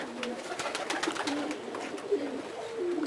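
Pigeons in a loft give soft, low coos against a faint background of rustling and light clatter.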